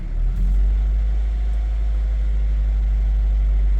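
A Honda CR-V engine runs steadily after a valve lash adjustment that fixed a misfire, a loud, close, deep, even hum that holds throughout.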